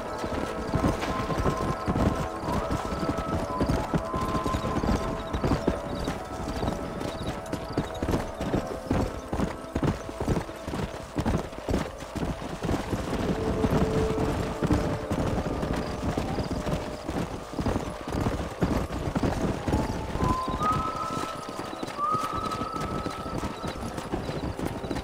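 Horses gallop in the Red Dead Redemption video game, a steady rapid clatter of hooves running throughout, with a brief whinny toward the end.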